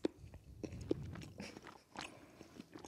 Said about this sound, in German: beißt in das Käse-Marmeladenbrötchen und kaut